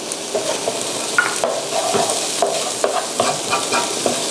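Crab being stirred with curry powder in a hot pan, with steady loud sizzling and frying and repeated scraping stir strokes at a quick, uneven rhythm, and no talking.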